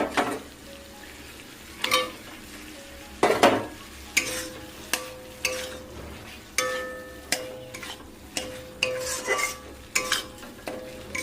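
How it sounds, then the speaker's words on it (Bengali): Eggs are stirred and fried in a spice paste that has already been cooked down, giving a steady sizzle broken by repeated scraping strokes and metallic clinks of a utensil against the pan, close and alone without talk. "এবারে ডিমটা দিয়ে আর একটু কষাবো।"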